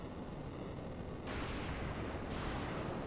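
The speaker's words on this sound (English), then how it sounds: "It's actually more of an explosion sound," A rumbling, noisy blast from a Final Fantasy game, a broad roar that surges suddenly partway through and keeps on loud and continuous until the end.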